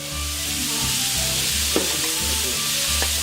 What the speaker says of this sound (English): we want to brown that off in our pan